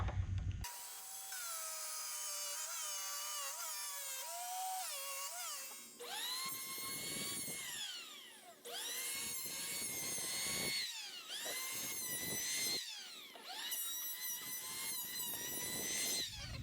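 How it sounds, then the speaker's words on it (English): Circular saw trimming the edges of an epoxy river table: the motor whines up, then several loud cutting passes whose pitch rises and drops as the blade bites, separated by short pauses. "our circular saw. And we'll go ahead and make these edges straight"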